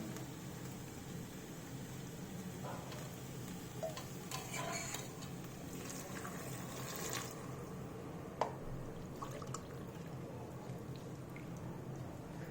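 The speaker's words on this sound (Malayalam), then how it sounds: "ഇതിലേക്കൊരു 2 കപ്പ് തേങ്ങാപ്പാൽ ഒഴിച്ച് കൊടുക്കുകയാണ്" Two cups of coconut milk poured into rice in a cooking pot, a soft continuous liquid trickle and gentle bubbling with a few small clinks, fairly quiet and close.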